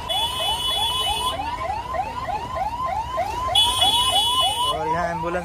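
A wailing ambulance siren cycles rapidly and continuously, stuck in a traffic jam during heavy rain, with a high electronic tone pulsing on and off over steady traffic rumble.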